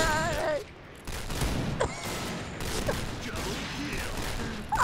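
Rapid gunfire in the shooter game Point Blank rattles in short bursts with mechanical clicks between them, moderately loud, while a voice speaks in the background.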